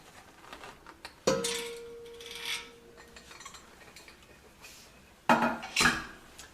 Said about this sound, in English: And now I can open the lid.